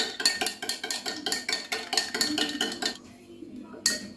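A spoon scraping and clinking rhythmically against a pot of custard, quick repeated strokes, close up, pausing briefly near the end before resuming.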